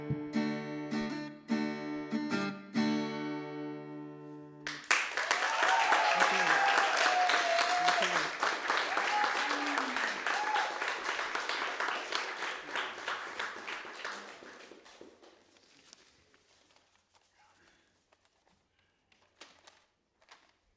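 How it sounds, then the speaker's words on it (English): An open mic audience applauds loudly and steadily after a performance, the clapping swelling for about ten seconds and then thinning out to scattered claps; a short stretch of music ends just before the applause starts. "Thanks for the warm welcome and round of applause."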